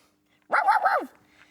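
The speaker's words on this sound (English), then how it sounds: "A little white fluffy dog" A small white fluffy dog gives a single short, high, yelping bark-whine lasting about half a second, close and clear against near silence.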